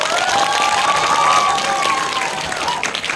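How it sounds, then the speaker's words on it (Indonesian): A cinema audience at a film screening bursts into loud, dense applause with cheering, sustained for a few seconds and fading slightly at the end. "tepuk tangan dong."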